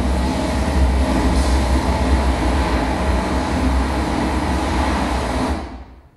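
Mine cage elevator descending underground at about 60 km/h, a loud, steady rushing rumble with rattling wagon-like clatter that holds for most of the run before dropping away abruptly near the end.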